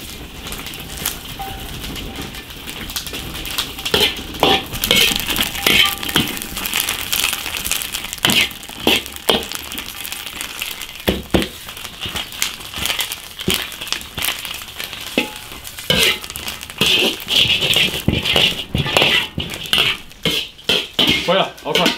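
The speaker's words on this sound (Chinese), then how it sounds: "辣椒直接下锅炒" Green chili peppers stir-fried in an iron wok, with a steady crackling sizzle broken by frequent sharp scraping and clanking strokes of a metal spatula against the pan, close and fairly loud.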